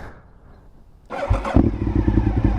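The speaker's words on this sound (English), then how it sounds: "Here, we can hear the exhaust real quick." A Honda RC51 motorcycle engine fires up after a quiet moment and settles into a loud, throaty, rhythmic exhaust idle with a quick rev.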